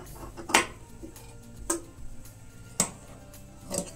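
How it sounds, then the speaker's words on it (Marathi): Scissors snip away excess fabric while a baby dress is sewn: a handful of sharp, quiet clicks spaced irregularly over a soft background. "जास्त झालेला भाग कट करायचा आहे"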